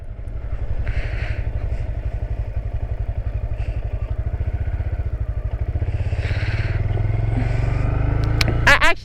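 A Honda Grom motorcycle chugs along at low speed with a steady, pulsing exhaust thrum and a few faint shifts in pitch. A brief rattle of clatter comes near the end.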